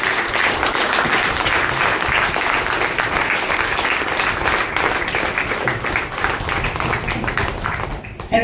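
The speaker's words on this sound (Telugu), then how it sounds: "ఒకసారి చూపెట్టండి చప్పట్లతో" Sustained audience applause fills a training hall, dense and steady clapping from a large crowd for about eight seconds, loud and close, tapering slightly at the very end.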